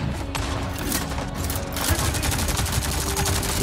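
Rapid turret gunfire in the video game Avatar: Frontiers of Pandora, a dense, loud run of shots from start to finish, with the barrage growing heavier partway through.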